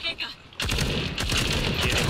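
Loud, fast machine gun bursts from the video game World War Heroes 2 erupt after a short quiet moment and continue as a dense, rattling stream.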